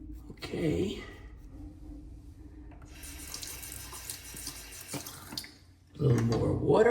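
Tap water running into a sink for a few seconds during a wet shave, a steady hiss of flow, with a voice speaking briefly before and after.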